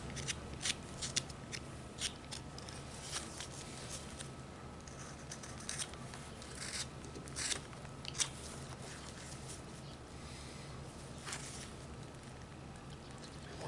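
A knife whittles a wooden snowman ornament, making a series of short, crisp scraping and snicking cuts at an uneven pace, close up and fairly quiet, with no speech.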